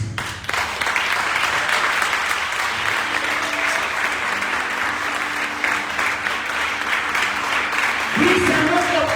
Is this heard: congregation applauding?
yes